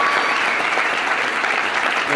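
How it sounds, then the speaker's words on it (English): A room full of wedding guests clapping for the bridesmaids, warm sustained applause at a consistent level throughout. "can we get a round of applause for the bridesmaids?"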